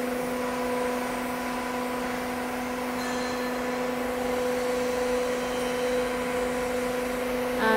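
A fence post roll forming machine runs with a steady, close mechanical drone and hum, holding level throughout with a small rise at the very end; no talking.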